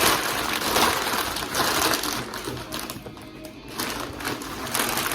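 Packing paper crinkled and rustled by hand while unboxing a large Hells Headbangers order in a back room, a dense, loud, continuous crackle close by with no talk.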